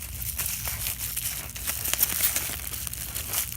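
A birthday present package is unwrapped by hand without scissors, giving steady close crinkling and crumpling of packaging with a few sharp tearing bursts throughout.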